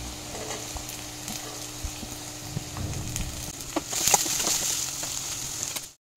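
Carrots and capsicum frying gently in a pan over a low flame for egg poha, giving a soft, steady sizzle with faint stirring scrapes and a brief louder crackle before it cuts off.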